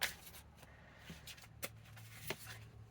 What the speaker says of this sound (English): That wasn't a very long shuffle.